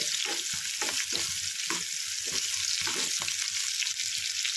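Onions fry in oil in a pan while being stirred for a North Karnataka brinjal palya, a steady close sizzle with repeated scraping stir strokes throughout, no talking.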